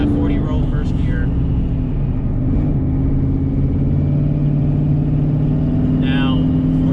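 A turbocharged car with a 4R200 transmission pulls hard in first gear during a roll race, already in boost: a steady, loud, close engine drone that holds throughout.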